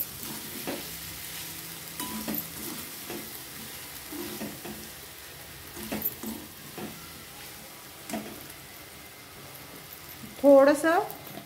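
Pasta is stirred with pasta masala in a pan, with repeated close scraping strokes over a soft sizzle and a short burst of voice near the end.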